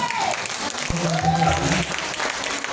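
Listeners at an Indonesian seminar clap together in a full, sustained round, with a voice speaking over the applause.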